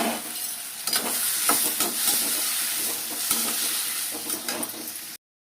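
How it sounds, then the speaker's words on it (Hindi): Okra and tomatoes fry in hot, smoking oil, giving a steady close sizzle and hiss broken by repeated scraping clicks of a stirring spoon. "और भिंडी का तड़का लगा के टमाटर डाल दिए हैं।"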